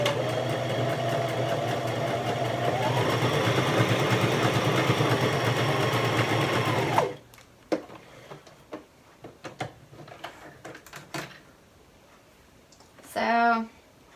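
A sewing machine runs steadily for about seven seconds, sewing a stretch stitch on a fabric sample, with a motor hum that rises slightly partway through, then stops, leaving quiet handling clicks and a short burst near the end.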